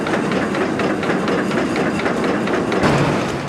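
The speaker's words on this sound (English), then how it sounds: "this movement of the saddle forms a short length of finished tube" A tube-forming mill with rocking dies and a moving saddle rolls finished tube over a mandrel bar, giving a loud, continuous clattering, rhythmic industrial rumble throughout with no pauses.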